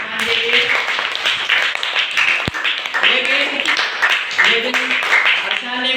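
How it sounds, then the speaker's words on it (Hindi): Students in a classroom clap for a classmate, a loose patter of hand claps running steadily throughout, with young voices chattering over the top. "जोरदार तालियां बजाएं अर्शान के लिए।"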